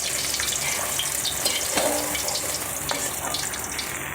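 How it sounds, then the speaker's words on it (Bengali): Fish fries in hot oil in a pan, giving a loud, steady sizzle with a few brief stirring or turning sounds as the pieces are flipped. "মাছটা আমার ভাজা হয়ে গেছে, আমি দুই একবার উল্টে পাল্টে তুলে নিচ্ছি।"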